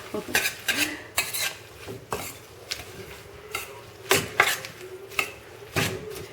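A stainless steel spoon clatters and scrapes against a stainless steel bowl in uneven, repeated strokes, close and fairly loud, with no voices.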